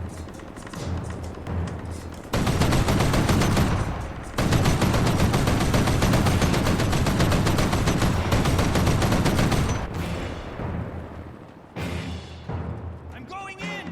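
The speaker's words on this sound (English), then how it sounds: "there's some fucking machine guns here" Machine guns rattle in a video game, with long dense bursts of automatic fire and explosive thuds filling most of the stretch, loud and close, while someone talks over the action.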